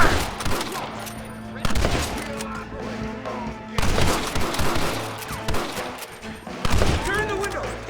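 Heavy gunfire erupts in a Red Dead Redemption shootout, with repeated loud volleys of shots, booming impacts and crashes in dense bursts across the scene, broken by brief lulls, while shouting voices occasionally cut through the din.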